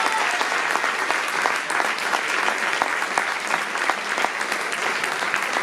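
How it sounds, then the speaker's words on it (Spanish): An audience at a women's poetry festival in Valencia claps steadily for several seconds, a dense, even patter of many hands with occasional sharper claps. "Lucho Roa, un fuerte aplauso para él"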